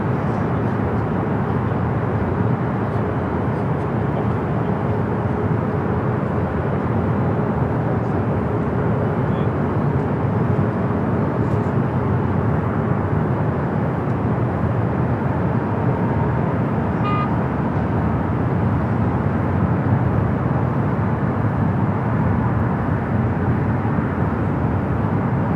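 A Korean Air cargo airliner arriving at Los Angeles International Airport, its broad steady engine roar continuous and fairly loud throughout, with a faint tonal whine and some distant background noise.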